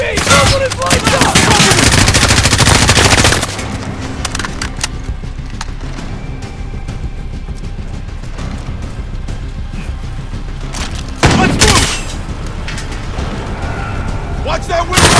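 Machine gun fire in Call of Duty Modern Warfare during a night operation, loud sustained automatic bursts up close with further sharp bursts, while soldiers shout over the ongoing combat.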